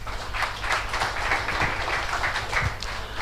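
Audience applause at a vocal concert and felicitation ceremony: a steady, full wash of clapping that holds an even level for over three seconds, with occasional low thumps underneath.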